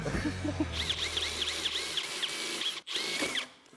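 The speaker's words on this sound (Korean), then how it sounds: "솔직히 말하면 드릴이 좋아서 그래요." A Milwaukee power drill bores into a workpiece, a close whining motor with rapid rhythmic chatter and a brief stop before spinning up again. Faint background sounds sit under it.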